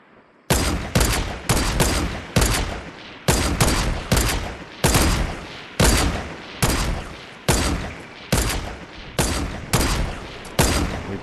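Steady repeated gunfire in Fortnite, around a dozen loud heavy shots at an even pace, each ringing out briefly before the next, with no talk over them.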